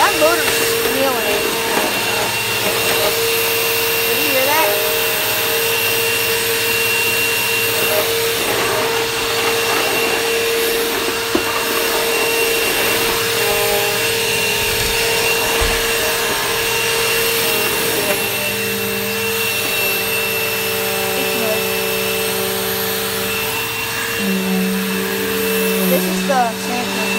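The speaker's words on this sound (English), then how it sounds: "That motor's squealing." A vacuum cleaner runs loud and steady throughout, its worn motor giving off a sustained high squeal over the drone, with a voice talking faintly underneath.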